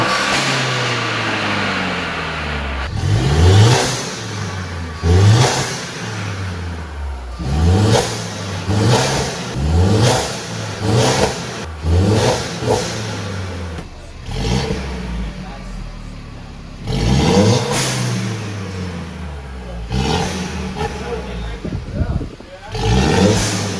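A Mercedes C300 fitted with a new downpipe and charge pipe revs hard inside a parking garage, giving a series of loud, echoing throttle blips that climb and fall in pitch, with a short pause partway through.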